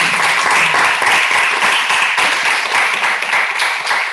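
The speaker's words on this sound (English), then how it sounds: "I will suggest we give an applause to Giulio" Webinar audience gives a sustained round of applause for the speaker Giulio, dense steady clapping throughout with no voices.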